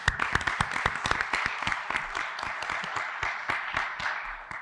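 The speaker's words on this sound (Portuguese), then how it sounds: "uma salva de palmas" An audience at an open lecture for a labor law specialization course claps steadily, scattered individual hand claps standing out sharply within a moderate, continuous round of applause.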